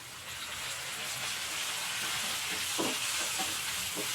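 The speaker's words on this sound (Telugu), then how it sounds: "సన్నగా తరిగి పెట్టుకున్న 2 టమాటో ముక్కలు యాడ్ చేసుకున్నాను." Finely chopped tomato pieces added to ginger garlic paste frying in a pan, giving a steady, dense sizzle throughout with a few soft stirring knocks, close up and with no talking.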